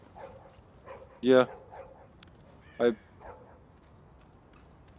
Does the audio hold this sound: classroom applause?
no